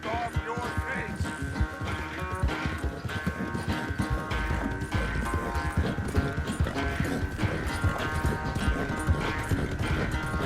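Horse hooves clip-clop steadily in the Red Dead Redemption 2 video game, a continuous rhythmic trot under background music and character dialogue.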